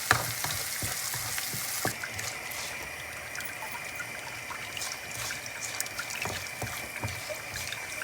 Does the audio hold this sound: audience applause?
no